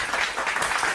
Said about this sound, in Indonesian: Mari kita beri tepuk tangan.